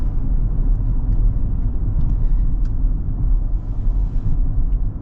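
Inside a 2025 Toyota Sequoia TRD Pro on 35-inch tires, a dense, steady low road rumble and drone fills the cabin while driving, with faint higher rattles and no talking.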